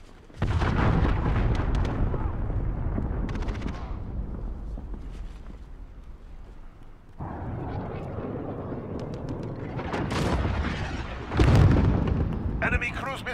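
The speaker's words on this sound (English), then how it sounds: "Enemy cruise missile incoming!" Cruise missile strike explosions in Call of Duty: Modern Warfare online multiplayer, heavy rumbling blasts and booms filling the whole span loudly, with a sharper burst near the end, under game voice callouts.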